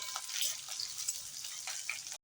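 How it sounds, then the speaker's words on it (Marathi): Finely chopped green chillies fry in hot oil in a pan, a bright continuous sizzle with a few crackling pops that cuts off abruptly at the end. "या बारीक चिरलेल्या 4 मिरच्या आहेत, या घालायच्या आहेत आणि चांगलं तेलात फ्राय करून घ्यायचं आहे."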